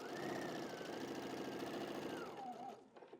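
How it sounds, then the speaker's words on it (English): A sewing machine runs a basting stitch along fabric in a fast, steady, close whirring hum that slows and stops near the end, with no one talking. "So I've got my machine set to a basting stitch."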